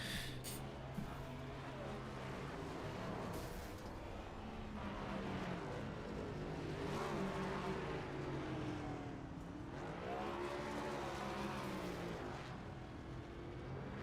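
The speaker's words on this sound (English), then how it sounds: "James Fox burning it down" A race car doing a victory burnout at the LA Coliseum after an NGCS All-Star Race, its engine roaring and revving in long rising and falling waves, distant and sustained over a continuous rush of crowd and tyre noise.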